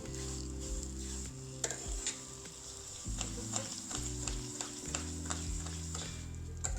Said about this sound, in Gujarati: હવે આપણે મીડિયમ ગેસે રવાને શેકી લઈશું